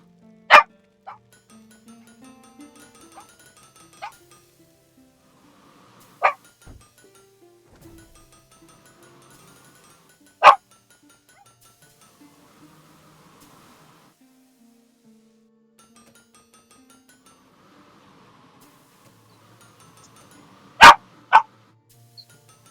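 Dog in the video game Blacksmith Master barking sporadically, with sharp single barks spread several seconds apart and a close pair near the end, over a quiet hum of game ambience.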